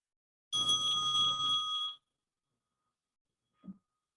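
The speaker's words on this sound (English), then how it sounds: "when the bell rings, take your own time to bring your attention back to our gathering" A meditation bell rings out once with a bright, sustained metallic tone that holds for over a second and then cuts away, followed by a faint soft thump in an otherwise quiet room.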